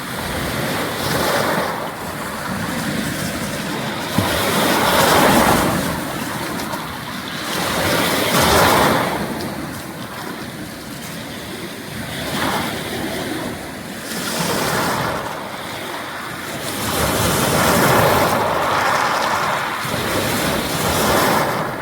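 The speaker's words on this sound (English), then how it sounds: "Listen to the rocks as they go down when the waves come through." Waves on Lake Superior's north shore wash in and out in slow repeated surges, with a continuous rattling hiss of shoreline rocks tumbling as the water drains back, plus some wind noise.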